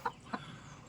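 Two short, quiet clucks from a village country chicken, evenly spaced, with a faint low background hum and no talking.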